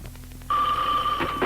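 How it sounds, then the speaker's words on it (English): A telephone rings on a radio show's call-in hotline, a steady electronic bell tone starting partway in and holding loud and close, with faint background noise before it. "Hotline ringing off the hook again."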